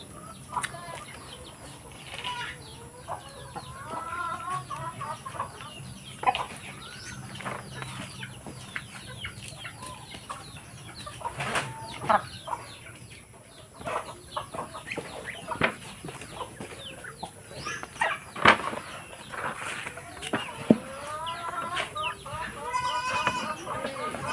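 Muscovy ducks on a farm make a busy, clamoring racket of scattered calls and squawks, with occasional wing flaps and a voice talking over them at times.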